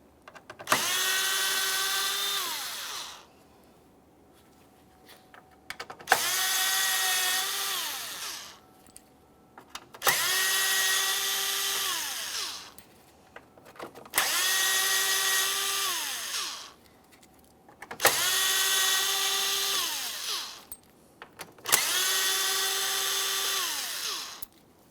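A power drill backs T15 screws out of the front grille of a 2017-2024 GMC Acadia in six steady whirring bursts of a few seconds each, separated by short pauses and quiet clicks.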